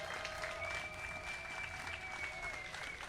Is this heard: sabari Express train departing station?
no